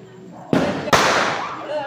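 During a Laxmi Puja celebration a firecracker bursts twice in quick succession, close and loud, the second bang sharper, each leaving a hissing, crackling tail.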